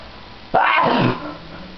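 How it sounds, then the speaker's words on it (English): A single sharp, forceful sneeze burst, loud and close, followed by a brief trailing exhale. "Sorry, I need to sneeze."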